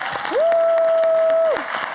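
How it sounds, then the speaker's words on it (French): Applause from a live television studio audience, fairly close and steady, briefly overlaid by a loud sustained electronic tone through its middle. "Je voudrais qu'on applaudisse plus que fort pour Shekinah Yato avec nous ce soir."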